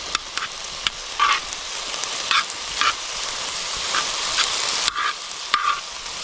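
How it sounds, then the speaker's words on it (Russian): Soft steady sizzling of pork and onions frying in a pan, with occasional scraping stirs and clinks of a utensil, close and fairly quiet. "И все это дело вместе с лучком еще 5 минут жарим."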